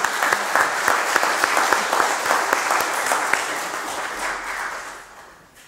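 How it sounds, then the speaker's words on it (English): A church congregation applauds graduates during a Children & Youth Sunday service, steady clapping from a crowd filling the room at even loudness, then tapering off in the final second. "let's clap for each of them."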